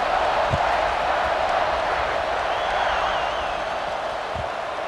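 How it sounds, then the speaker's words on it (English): Stadium crowd in EA Sports College Football 26 roars steadily as a broad, dense wash of cheering that holds for several seconds, with faint thumps and a thin whistle above it and an announcer's voice in the mix. "this crowd now ready to get behind them"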